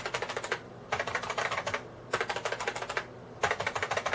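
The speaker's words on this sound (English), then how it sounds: "You can hear it's more of a plasticky thock on the Unicomp one" Rapid clacking keystrokes from a plastic Unicomp Model M buckling-spring keyboard without a steel plate, giving a plasticky thock, in three bursts separated by short pauses, close and fairly crisp with no talking.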